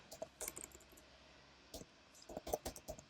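Keys clack in irregular bursts and short pauses as someone types code on a computer keyboard, close and fairly quiet, with brief louder clicks standing out.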